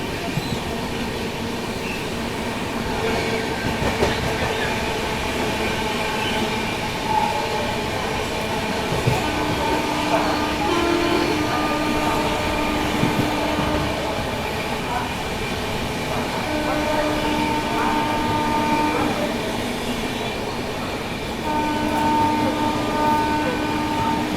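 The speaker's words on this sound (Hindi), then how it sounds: "यहाँ पर किसी ट्रेन को ओवरटेक भी मारते हुए हम लोग आगे बढ़ रहे हैं" Heard from on board, the Delhi–Yeshwantpur AC Duronto Express overtakes an ICF train, giving a continuous rumble of wheels and carriages with faint rail clatter and some voices underneath.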